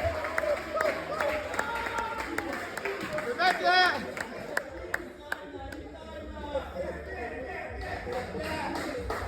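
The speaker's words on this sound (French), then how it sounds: "Applaudissements." Applause from a comedy show audience, with claps and taps under a steady crowd murmur and bits of chatter, moderately loud and close.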